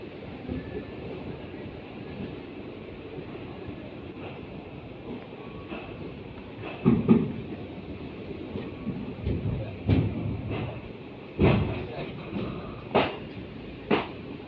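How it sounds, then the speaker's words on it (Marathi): A passenger train leaves Panvel station with a steady low rumble, joined later by a series of sharp clacks and knocks from the wheels and couplings as it moves. "आता वाजले 5:30 आणि ट्रेन सुटले पनवेल स्टेशनवरून"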